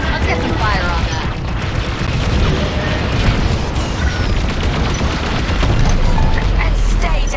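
A jamming ship explodes in the space-combat video game Star Wars Squadrons, a deep rumbling boom under continuous engine roar, laser fire and radio chatter from pilots.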